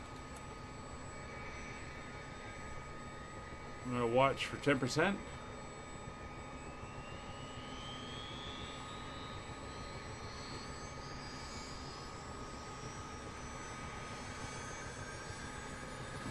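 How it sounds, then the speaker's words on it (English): Engine two of a CH-47D Chinook helicopter spools up in a flight simulator game: a low, steady turbine drone with a slowly rising whine, briefly topped by a voice talking. "So we're going to start engine 2."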